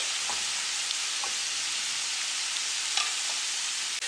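An egg fries in a frying pan with a steady, dense hiss of sizzling oil, continuous and even throughout, with a few faint ticks and pops.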